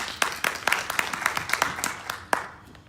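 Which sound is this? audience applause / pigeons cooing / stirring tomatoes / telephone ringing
audience applause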